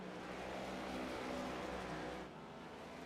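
Race cars in a sim racing game at New Hampshire drone steadily on track, a continuous engine roar at moderate distance. The pitch holds steady, then drops slightly near the end, with no talk over it.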